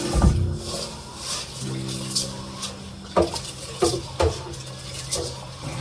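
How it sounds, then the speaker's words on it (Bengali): Lentils being washed in a cooking pot: water sloshing and pattering with several close metallic knocks of the pot, no one talking. "ডালগুলোকে আমি এখন ধুয়ে নেব একটু।"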